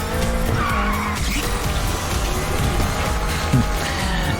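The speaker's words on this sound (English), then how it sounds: "the car kinda stays in a drift when you boost while drifting" In the NFS Unbound racing game, a car holds a long drift with tires skidding and squealing loudly over its engine roar for several seconds.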